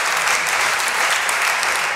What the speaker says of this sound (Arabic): نحب تصفيق